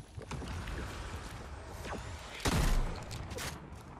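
Gunfire in the battle royale video game Fortnite, a single loud sharp shot cracking out near the middle over a steady background of game ambience, followed by a short decaying tail.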